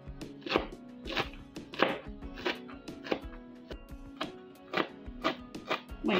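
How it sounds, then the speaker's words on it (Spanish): A knife chops leek rapidly on a cutting board in a steady, irregular rhythm of close, sharp taps. "aquí estamos cortando o picando el ajo porro."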